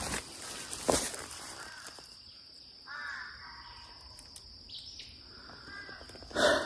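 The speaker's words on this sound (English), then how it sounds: "This evening, the crows are calling." A few harsh crow caws ring out at a distance, spaced apart, over a steady high chirring of insects in an otherwise quiet evening.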